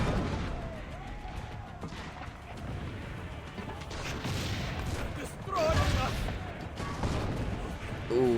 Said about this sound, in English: Let's knock out all these various cannons.